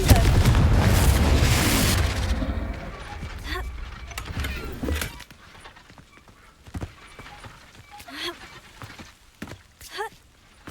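A Confringo fire spell detonates in Hogwarts Legacy with a loud, broad explosive burst lasting about two seconds, then fades into quieter clatter and sharp effects from the game.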